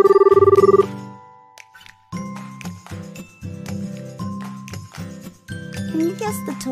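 A toy phone rings with a rapid electronic bell trill for just under a second, followed by bright, bouncy children's music with tinkling notes that carries on steadily to the end.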